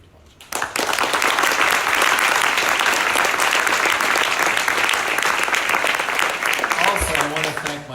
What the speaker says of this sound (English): We thank you, and we applaud you.